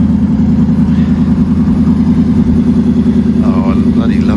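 A deep, throaty engine idles loudly and steadily nearby, with a rich low rumble and a slight rise in revs near the end.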